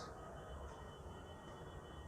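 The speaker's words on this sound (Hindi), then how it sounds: "ये आ गई है श्री शक्ति एक्सप्रेस।" A faint, steady rumble of the Shri Shakti Express passenger train arriving at New Delhi railway station in the distance, a low continuous roar with a thin high whine above it.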